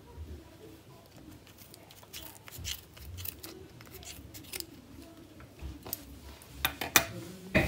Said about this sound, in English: Take your scissors, little sharp ones are best for this. Cut it open